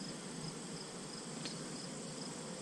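Honey bees swarming around a hive after a honey frame is pulled, a faint continuous insect buzz at low level with no speech.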